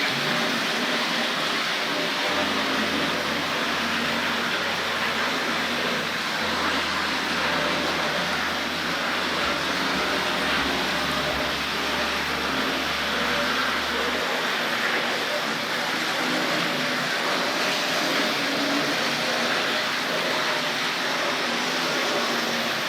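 A Hornby Class 31 diesel-electric model locomotive pulling ferry vans runs on a model railway with a steady, whirring mechanical hum and rolling wheel noise, continuous and fairly loud throughout.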